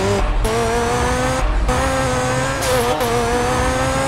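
A car in GTA San Andreas drives with a steady, loud engine drone that rises and falls slightly as it accelerates, with brief tire-squeal scrapes cutting in.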